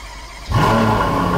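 A Ferrari engine fires up after a quiet moment, catching abruptly and settling into a loud, steady idle with a rich tonal hum close by.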